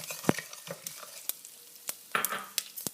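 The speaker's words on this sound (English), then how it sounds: "Next is a teaspoon of cumin seeds." Cumin seeds are stirred in a hot pan, a faint sizzle broken by sharp scrapes and clicks of a spoon against the pan, sparse and irregular, close and quiet.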